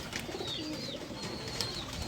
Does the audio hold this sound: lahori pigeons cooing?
yes